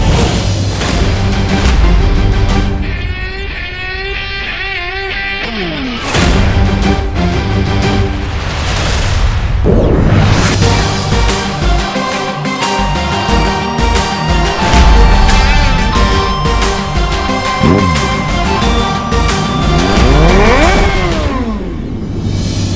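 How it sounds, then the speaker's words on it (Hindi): A motorbike engine revs repeatedly with rising and falling whines, sounding close and loud, along with a layered musical soundtrack and dramatic effects in a children's fantasy show. "ये तो दोस्त की बाइक की ही आवाज है।"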